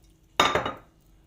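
A spoon clinks sharply against a bowl where tomato paste with garlic sauce is thinned with water, a short bright metallic clatter that fades quickly into quiet.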